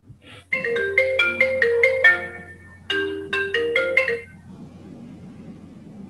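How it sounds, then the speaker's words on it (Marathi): A phone ringtone plays a bright repeating melody in two loud bursts with a brief pause between, then fades out, heard during a Marathi one-act play performed over Zoom. "राजेश, का फोन केलास तू?"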